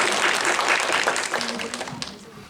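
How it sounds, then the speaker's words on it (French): Audience applause for cosplayers at a cosplay contest, a dense sustained wash of clapping from a crowd that holds steady and then slowly thins toward the end, with a voice faintly audible underneath. "On l'applaudit s'il vous plaît"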